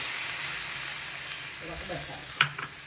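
Peanuts, tomatoes and tamarind pulp fry in a pan for a Hyderabad-style Lingaiah chutney, giving a steady close sizzle with a few light stirring clinks near the end.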